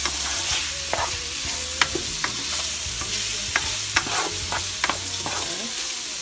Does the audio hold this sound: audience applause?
no